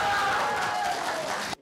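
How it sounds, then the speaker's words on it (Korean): A crowd cheers at an announcement of research findings about the Pohang earthquake, a dense wash of voices and clapping that holds steady for about a second and a half and then stops abruptly. "학계의 조사 발표장에 때 아닌 환호성은 시민들의 응어리가 무조건 반사로 표출된 겁니다"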